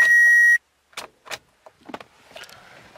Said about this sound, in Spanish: el carro simplemente se escucha un clic, pero no funciona el motor de arranque